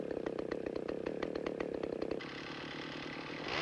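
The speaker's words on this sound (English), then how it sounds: "After starting, oil the chain and take the time to be sure that the chain does not rotate" A chainsaw engine runs with a rapid, buzzing pulse, then shifts to a smoother, higher whine; loud, close, no speech.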